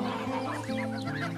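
Young geese, including two grey ones, give brief, nasal cackling calls that overlap close by in a short burst.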